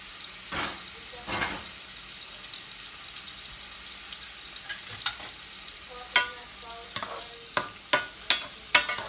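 Broccoli frying in a pan is stirred and scraped, a steady close sizzle broken by repeated clacking strokes of the utensil that come quicker and louder toward the end.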